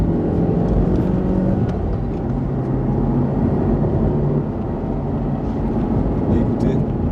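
A Honda CR-Z with a slightly modified exhaust muffler, driven in sport mode, gives a steady, loud engine drone with a broad low rumble throughout, heard from inside the car.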